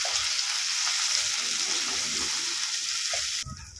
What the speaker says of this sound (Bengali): ভালো করে ভেজে নেব মশলাগুলো।